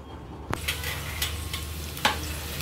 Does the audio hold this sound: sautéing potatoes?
yes